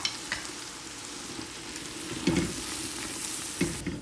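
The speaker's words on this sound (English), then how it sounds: "Now in goes 1 1/4 cups of all-purpose flour, and stir that in real quick." All-purpose flour being stirred into garlic cooking in fat for a shrimp bisque roux, a continuous sizzle with a few spoon scrapes and knocks against the pot.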